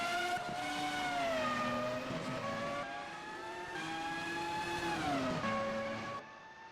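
V12 engine of a race car in a racing game, a loud sustained high-pitched wail that holds steady, dips and climbs again with gear changes, with a brief squeal of tyres, close and continuous throughout.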